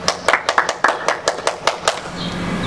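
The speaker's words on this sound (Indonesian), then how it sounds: "Tepuk tangan buat Tuhan Yesus" Children clap together in a quick, steady rhythm of about a dozen sharp claps during a Sunday school church service. The clapping is close, fairly loud and carries no talk.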